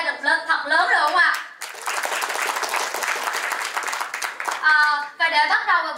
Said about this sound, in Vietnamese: xin mời tất cả các quý dành cho Ngon một tràng pháo tay thật lớn, thật lớn được không ạ?